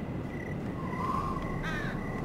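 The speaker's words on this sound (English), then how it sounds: "Ah, birds." Crows cawing in Telltale's Game of Thrones video game, a few harsh calls in a row over a steady windy ambient bed, moderately distant.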